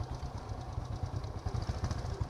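A motorbike engine idles after starting, a steady, slightly uneven low putter with regular chugging pulses, close by and running on its own without talk.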